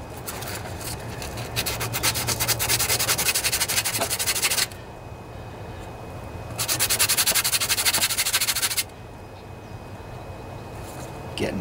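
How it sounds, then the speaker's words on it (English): Rapid back-and-forth scrubbing of a sanding sponge on metal of a Craftsman riding lawnmower with a 24 HP Briggs and Stratton engine comes in two long bursts separated by a pause, close and fairly loud over a faint hum. "This is just a sanding sponge I'm using here."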